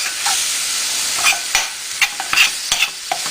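Food cooking in a pan seasoned with black pepper and salt for spaghetti, a loud bright hiss of frying with a cluster of sharp stirring clacks and scrapes in the second half, no speech.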